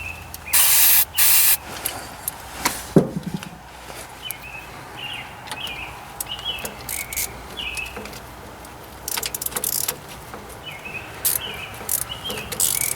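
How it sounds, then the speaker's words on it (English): Short spray bursts hiss from an aerosol can aimed at a bolt on a Ford 2N tractor, a few loud near blasts separated by pauses, with birds and insects chirping outdoors. "Let me give her a spray off here."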